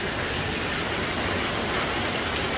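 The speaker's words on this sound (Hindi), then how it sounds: "आज पूरा दिन बारिश पड़ेगी ऐसे ही" Steady, dense hiss of heavy rain pouring down on a flooded road, continuous and close with no voices.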